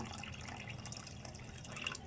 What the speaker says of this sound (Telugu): ఇంకా కొంచెం కూడా ఇందులో నీళ్ళు పోసుకుందాము